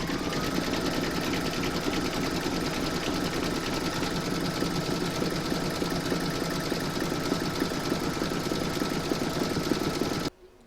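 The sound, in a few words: embroidery machine stitching kennel detail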